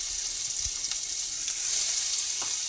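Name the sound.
chilli, bay leaf and garlic frying in oil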